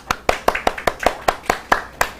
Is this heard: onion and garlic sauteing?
no